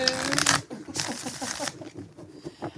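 A deck of tarot cards gets two brisk riffle shuffles, each a short crisp flurry, followed by softer handling sounds and a brief spoken word.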